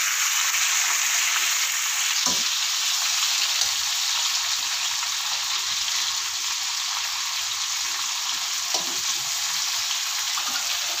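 Cumin, green chillies and tomato fry in hot oil for a home-cooked lunch, giving a steady, close, broadband sizzle that runs throughout, with a few brief clinks or stirring knocks and no talk.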